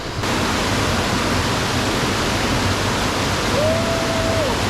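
Sai Khao waterfall in Pattani, Thailand, gives a steady, dense roar of falling water at close range, unbroken for the whole stretch with no voices over it.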